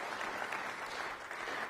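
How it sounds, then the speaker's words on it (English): Steady applause from an audience, a dense wash of clapping at a moderate distance with no voices over it. "Please give the ARC a big round of applause."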